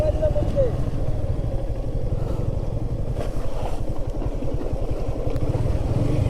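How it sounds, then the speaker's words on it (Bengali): A motorbike rides along a hilly stream path by the Poamuhuri river in Bangladesh, its engine running steadily and loud throughout with a continuous rumbling drone, while someone talks over it. "পাহাড়ি ঝিরি পথে বাইক চালাচ্ছি ভাই।"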